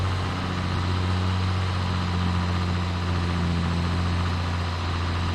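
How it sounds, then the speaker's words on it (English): A John Deere 4440 tractor in Farming Simulator 22, its diesel engine running as a steady low drone with a constant hum and no variation. "This 4440 is a really, really nice tractor"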